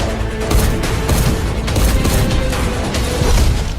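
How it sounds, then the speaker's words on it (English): Laser cannon fire in an animated battle sequence, a dense, continuous barrage of loud rapid blasts and booming impacts that fill the whole stretch with no pauses or talk. "And now we're bringing out a laser cannon."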